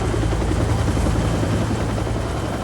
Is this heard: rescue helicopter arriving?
yes